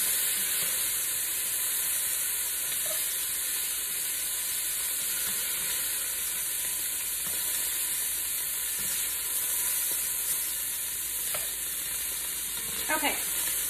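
Beef for stew browns in a pan with a steady, even sizzle and hiss that runs throughout, close by, broken now and then by faint clicks and a few sharper pops near the end.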